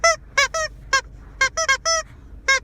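A dog's squeaky toy squeaks repeatedly in short, sharp, loud bursts, about nine squeaks in irregular rhythm, close up and with no talking.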